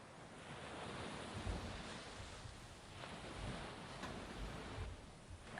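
Ocean waves wash steadily as background ambience during a tabletop role-playing game session, a broad rushing surf with gentle swells and wind, soft and continuous, with no voices over it.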